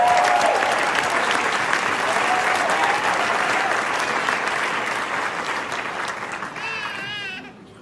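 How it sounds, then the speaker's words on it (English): A large audience claps steadily at a live wealth-coaching event as a guest is welcomed on stage, the applause dense and continuous, slowly fading toward the end with a brief whistle-like tone at the close. "Give him a big round of applause."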